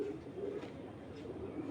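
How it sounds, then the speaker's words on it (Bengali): Two fancy pigeons, a large Makra among them, coo softly while held in someone's hands, giving a low, steady murmuring purr for a couple of seconds without any talk. "তো আমি একটু কবুতর দুইটা হাতে নিয়ে দেখাই"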